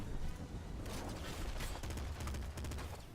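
Double shotgun blasts in the Nuclear Throne video game, a quick burst of rapid crackling shots that fills the clip, fairly faint and dense.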